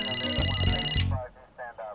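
A telephone's musical ringtone plays loudly late at night for about a second before cutting off, after which someone speaks.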